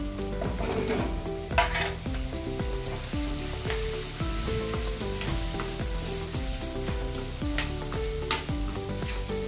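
Turmeric, salt and red chilli sizzle in hot oil with onion and tomato in a kadhai, a constant close frying hiss with the sound of stirring, and no talking.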